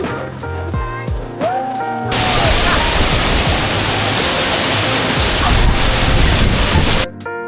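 Roar of a waterfall at Siquijor island falls, a loud, steady rushing wash that swells in after a brief stretch of quieter ambience and holds constant, then cuts off at the end.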